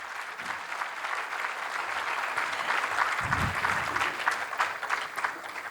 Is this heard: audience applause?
yes